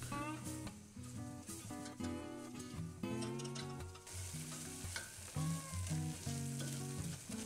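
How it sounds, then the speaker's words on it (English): Flour sizzles in melted butter in a pan over medium heat while a spatula stirs and scrapes it in quick strokes, close up, with background music playing throughout. "Once the butter's melted, add your flour to the pan. And stir fry using a spatula for about 1 minute."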